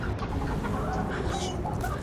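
A pet chicken clucks amid a dense, steady background wash, with soft intermittent clucks and rustling that stay fairly faint and partly masked throughout.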